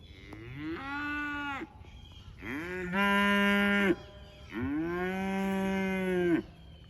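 A cow moos three times in long, drawn-out calls, loud and close, with brief pauses between them.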